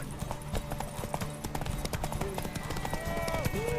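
Horse hooves clip-clop at a gallop during a race in The Witcher 3, a rapid uneven beat of hoofbeats over game ambience, with brief voice-like tones and a whinny-like sound near the end.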